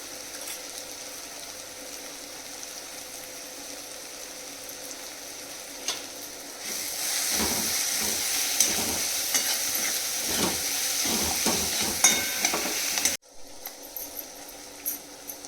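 Onion, tomato, turmeric and garam masala sautéing in a pan for a chana dal besan dish: a low sizzle that swells louder with stirring scrapes partway through, then cuts back to a faint hiss.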